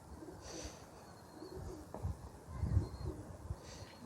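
Flying pigeons kept as a hobby coo in low, soft bursts, with a few throaty calls rising toward the end over a dull background rumble and no talking.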